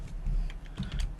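Short burst of typing on a computer keyboard, quick uneven key taps over about a second, close and moderately soft, with no talking.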